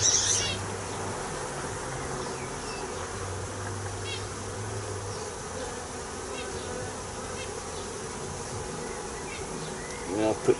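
Honey bees from a swarm hum in a steady, dense drone around a hive being inspected during a split, close and continuous, with faint handling noises near the end.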